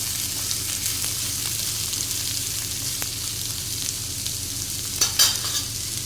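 Steady crackling sizzle of beetroot frying in hot oil, continuous and close, with a brief louder spatter near the end.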